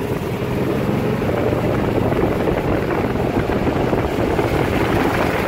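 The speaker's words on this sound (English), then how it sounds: "This is probably the first time you ever drove a golf cart." Golf cart driving through a road tunnel, a loud constant rushing roar of motor and wind reverberating throughout, with no talking.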